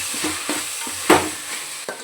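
Tomatoes are sautéed in a pan for a coconut milk chicken gravy with potatoes, giving a soft frying sizzle with a few close spoon stirs and scrapes at an uneven rhythm.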